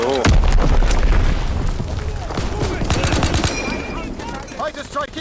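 Heavy blasts and booms from the Call of Duty WW2 video game, mixed with rapid gunfire bursts in a loud, dense battle, with voice chatter over the top.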